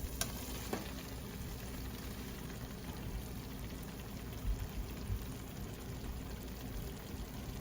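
Okra stir-frying in masala in a pan, a steady soft sizzle with occasional faint stirring scrapes, close and continuous.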